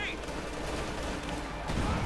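MG34 machine gun fire in a Company of Heroes 2 match, a steady dense crackle of battle noise running throughout with a caster talking over it.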